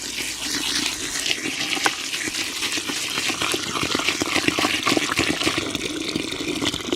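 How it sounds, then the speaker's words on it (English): Water pours steadily into a container of piglet feed on a pig farm, a continuous splashing rush heard close up for several seconds with no voices. "is fill it up with some water"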